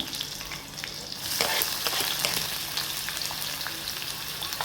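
Onion tipped into hot oil already holding chili and asafoetida, the sizzle jumping louder after a second and continuing as a dense close crackle with stirring, no talking.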